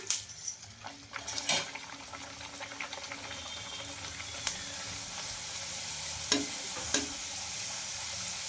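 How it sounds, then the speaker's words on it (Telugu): Puri dough is frying in hot oil in a kadai, giving a loud, continuous close sizzle broken by a few sharp metallic clinks of a utensil. "ఆయిల్ కూడా హీట్ అయింది మనకు ఇప్పుడు ఈ పూరి అయితే వేసుకుంటున్నా"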